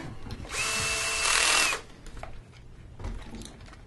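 A handheld power drill runs in one loud continuous burst of about a second, its whine rising in pitch partway through before it stops, while a pipe fitting is being assembled outdoors. Quieter handling noises follow.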